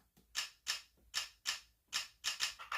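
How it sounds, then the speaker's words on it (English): Cropped camera shutter samples arranged into a syncopated rhythm: about nine sharp, bright clicks in uneven spacing, some paired closely, each with a brief decay, close and alone with no voices. "We're going to create a syncopated rhythm that sounds like this"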